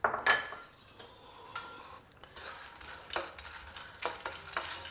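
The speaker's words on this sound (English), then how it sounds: "We will fry this in the hot ghee. Stir fry this also on a very low flame" Makhana (fox nuts) stir-fried in hot ghee over a low flame, with a spoon clinking and scraping against the pan in short bursts over a soft, steady sizzle.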